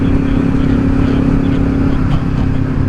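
A Kawasaki Ninja 500 motorcycle, a 2024 model fitted with a cheap $60 Amazon slip-on exhaust, cruises at steady speed. It gives a continuous loud engine drone with low rumble and wind noise, holding even throughout.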